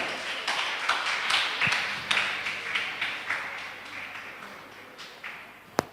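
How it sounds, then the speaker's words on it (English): An audience at a career guidance workshop gives the speaker a round of applause. Moderately loud crowd clapping runs throughout, swelling in uneven rhythmic waves and thinning toward the end, with one sharp tap near the close. "Give a big round of applause to our distinguished speaker"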